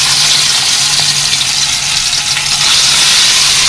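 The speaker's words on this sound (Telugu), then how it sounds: "సిమ్లో పెట్టుకొని ఫ్రై చేసుకున్నామండి" Fish pieces frying in hot oil on low heat give a loud, dense, continuous sizzle, close up and steady throughout, with no voices.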